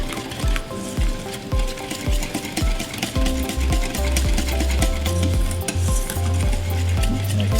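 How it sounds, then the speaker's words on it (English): Peanut butter being whisked thoroughly into the liquids of a Pad Thai sauce, a steady rhythmic stirring with clinking strokes and faint sizzle beneath, close and continuous with no talking. "Make sure you whisk it thoroughly. You break up the peanut butter into all the liquids."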